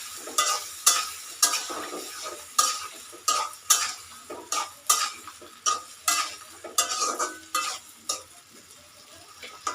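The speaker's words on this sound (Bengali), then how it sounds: "এখন দিয়ে দিব কুটে রাখা ধুন্দুল। নাড়াচাড়া করে ঢাকনা দিয়ে দিব।" Chopped ridge gourd stirred in a hot pan, a spatula scraping in a steady run of about a dozen sharp strokes over a soft sizzle, close and fairly loud with no talking.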